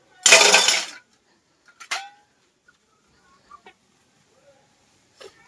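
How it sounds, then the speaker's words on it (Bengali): Chickens clucking near a village household as they peck at leftover rice from the previous day; one loud burst of clucking opens, followed by a shorter squawk and a few faint, scattered clucks and taps. "আর মুরগিগুলো ওই কালকের ভাত এগুলো খাচ্ছে।"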